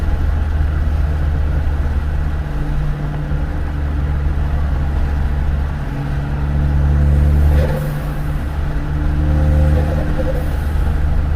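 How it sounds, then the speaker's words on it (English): A turbocharged car driving with the windows up: steady engine drone and road rumble with faint whirring and fluttering turbo sounds rising and falling as the throttle changes, loud and close from inside the cabin. "This thing makes all sorts of turbo noises."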